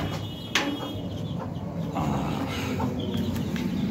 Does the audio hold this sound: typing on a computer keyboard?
no